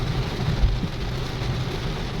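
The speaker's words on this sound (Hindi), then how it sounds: "जब मैं पहुंचने वाली थी तो इतनी बारिश वहाँ पे हो रही थी" Heavy rain pours down during an evening drive, a dense, steady hiss of drops drumming close by with a low rumble beneath and no voices.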